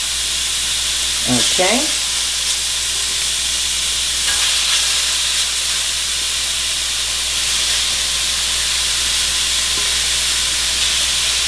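About two pounds of coconut shrimp sizzle loudly and steadily in hot oil, a dense hiss that flares briefly as the shrimp go in; a voice speaks once.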